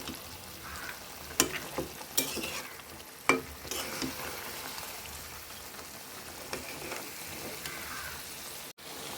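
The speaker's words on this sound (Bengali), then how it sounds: "বেশ কিছুক্ষণ কষাতে হবে।" Beef with raw and fried onions stirred and braised in a pot, giving a steady low sizzle with a few sharp scrapes and clinks of the spoon, close and moderately loud, no voices.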